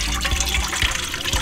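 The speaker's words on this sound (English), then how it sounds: "Now notice that I've got the water moving in a circular motion" Water swirls in a circular motion while tomato seeds are washed, a soft continuous sloshing and trickling close by with small splashy pulses.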